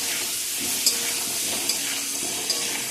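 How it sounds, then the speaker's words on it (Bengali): Salted potato pieces fry in hot oil meant for a meat curry, a continuous close sizzle with a few faint clinks of stirring. "আমার আলুগুলো ভাজা হয়ে গেছে, দেখতেই পাচ্ছেন"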